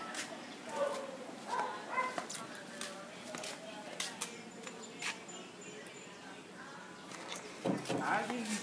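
Puppies bark, yip and whimper in a scattered series of short, fairly faint calls outdoors, with a person talking over them.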